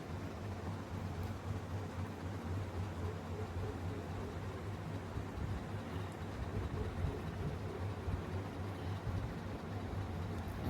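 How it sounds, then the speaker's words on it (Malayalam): Steady, dense hiss of heavy rain pouring continuously, with a low rumbling undertone and no voices. "നല്ല മഴ"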